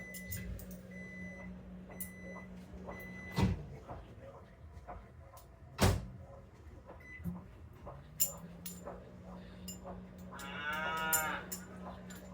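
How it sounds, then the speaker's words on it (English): Cows moo repeatedly at a distance, long low calls rising and falling over a quiet farmyard hum, with a couple of sharp knocks and a brief squeal near the end. "Here my cows mooing away, they're mad at something."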